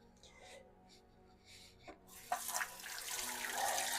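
Running tap water splashing over agar cups being rinsed in a sink, a steady rushing flow that swells louder after a couple of seconds with some rubbing and handling sounds.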